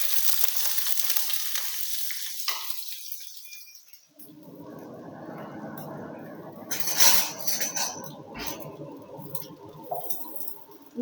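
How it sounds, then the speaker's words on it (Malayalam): Mustard seeds, shallots and garlic frying in hot coconut oil, a steady crackling sizzle with seeds popping and a few louder clatters, following a quieter stretch at the start. "ഈ വെളിച്ചെണ്ണ ചൂടായിട്ടുണ്ട്, നമുക്ക് കുറച്ച് കടുക് ഇട്ട് കൊടുക്കാം."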